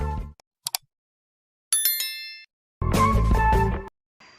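Bright metallic bell dings ring out as a notification sound effect in several separate bursts with silent gaps between them, the last burst fuller and longer.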